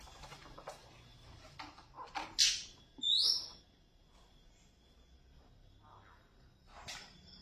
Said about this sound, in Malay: Dia burung banyak